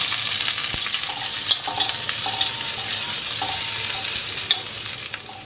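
Chopped ginger and garlic fry in hot oil, a bright continuous sizzle broken by sharp clicks of a spatula stirring against the pan, close up and with no talking.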